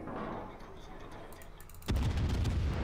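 Rear gun turrets of a warship firing in the naval combat game World of Warships, a sudden heavy boom arriving after low rumbling engine noise and sustaining loudly to the end.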